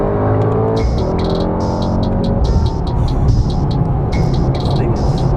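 A Mercedes-AMG GT63 S with a 9-speed gearbox drives at speed, its engine and exhaust droning loudly inside the cabin with a rising note, shifts and rumble, while chirping electronic beeps sound intermittently.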